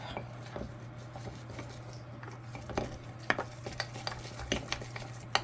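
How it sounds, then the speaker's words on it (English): Spoon scraping and stirring a sourdough mixture of fresh-ground whole wheat in a bowl, with faint scattered clinks and scrapes over a steady low hum, close and quiet. "Stir it up real good. Scrape down the sides as much as you can."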